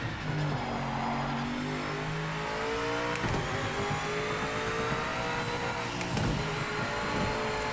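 A BMW GTE race car in the Project Motor Racing game at Spa-Francorchamps roars steadily at high revs, its engine note rising through the gears with brief shift breaks, loud and continuous with no voices.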